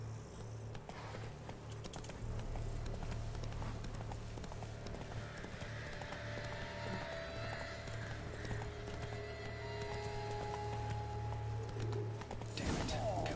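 Roach, a horse in The Witcher 3, gallops with a steady clip-clop of hooves over a low droning game soundscape, moderately loud, ending in a sharp rustling burst.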